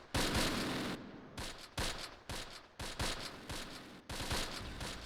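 Gunfire in the WWII tactics game Close Combat, Barenton 1944, with dense bursts of automatic fire and rattling volleys repeating in quick succession, steady and fairly close, with no talking.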